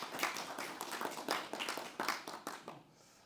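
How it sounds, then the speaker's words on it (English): Scattered hand clapping from a small audience at a spiritual talk, a few uneven bursts of claps that thin out and stop near the end. "Give that man a round of applause."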